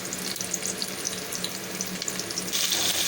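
Onions frying in hot oil in a preheated pot, a continuous close crackling sizzle that swells louder and brighter near the end.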